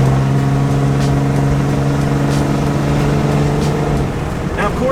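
Cummins diesel truck with straight pipe exhaust on new wide wheels, a loud, steady low engine drone with a strong exhaust hum that holds under load, then eases slightly near the end.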